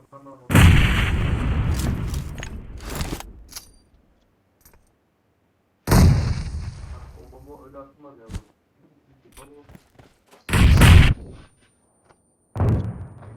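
Video game bomb explosions burst out as several loud, broadband blasts separated by quiet stretches, with a voice speaking at times between them.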